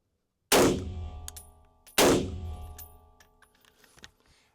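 Two loud, sharp gunshots from a PWS UXR rifle, each ringing out and decaying with a metallic reverberant tail, spaced about a second and a half apart, followed by faint clanks.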